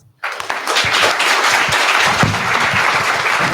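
Audience applause at a startup pitch competition, a dense, steady wash of many hands clapping that starts abruptly after a brief silence and holds at a loud, even level throughout.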